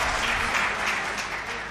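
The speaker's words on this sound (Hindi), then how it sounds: "आप लोगों ने जो मेरे स्वागत में इतनी घनघोर तालियां बजाई" Dense audience applause fills a hall at a live Hindi comedy poetry show, a steady wash of many hands clapping, fairly loud and fading slightly toward the end.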